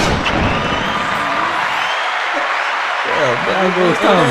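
A crowd applauds and cheers for a young man, a dense wash of clapping that carries on throughout while people talk over it and a voice rises in bursts toward the end.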